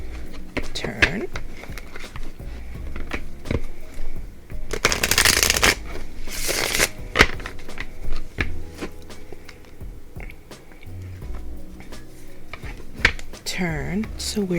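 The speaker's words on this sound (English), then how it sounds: "I shuffle it 3 times, making sure I turn one of them so that I get some reversals" Tarot deck shuffled by hand in repeated quick riffling bursts, crisp and close, between stretches of someone talking.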